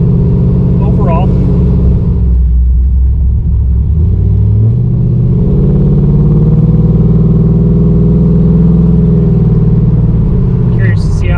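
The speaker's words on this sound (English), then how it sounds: "Curious to see how well the GoPro picks up the exhaust note" Deep, loud rumble from a 4th gen Camaro with true dual exhaust and small mufflers, heard close as the car cruises and revs, the pitch climbing and settling, with a voice talking over it.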